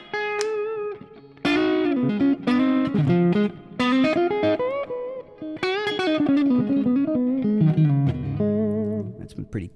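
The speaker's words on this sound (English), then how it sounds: "That's some pretty cavernous reverb I got on there right now." An electric guitar played through a Fractal amp modeler with a cavernous reverb rings out in a run of notes and chords, each one blooming and trailing into a long wash before the next.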